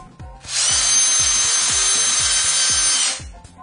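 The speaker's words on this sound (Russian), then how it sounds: "дрель шуруповерт фирмы Bosch" A Bosch GSR 18V-LI cordless drill driver runs steadily for about two and a half seconds, a loud, close motor whine with a grinding hiss that spins up and winds down, with quiet ticking clicks underneath.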